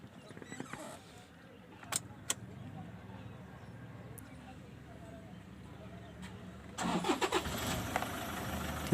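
A car with a camshaft position sensor fault, just repaired, sits quietly with faint clicks until its engine catches near the end on the first crank and settles into a close, steady run, with people talking around it.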